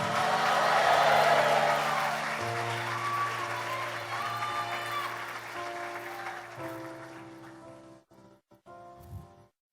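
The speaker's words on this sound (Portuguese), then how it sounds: "Por isso pode aplaudir e dar um glória aí." A church audience applauds, a broad wash of clapping that swells early and gradually fades, while sustained musical tones hold underneath and the clapping thins out toward the end.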